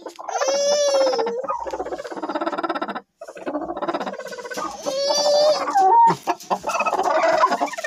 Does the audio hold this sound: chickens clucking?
yes